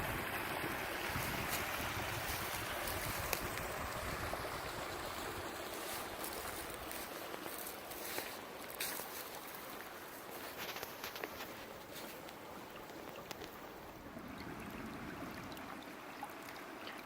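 A forest stream in New Jersey in spring flows steadily, a broad continuous rush of water close by with small splashes and rock knocks, no talking.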